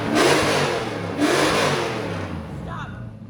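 A Jeep fitted with a Hemi V8 revs hard up close, two loud throttle blips rising and falling before the engine settles toward a rumbling idle, with people talking over it.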